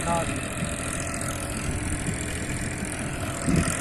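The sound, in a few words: tractor engine running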